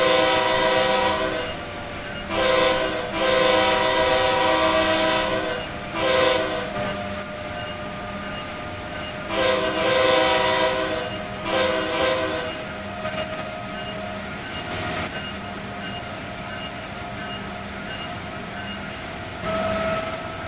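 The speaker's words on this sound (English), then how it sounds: "Now I'll just zoom past this station like in 100 miles an hour." Amtrak Acela Express train speeding past a station at around 100 mph in Train Sim World 6, steady rolling rumble with repeated loud horn blasts in several bursts.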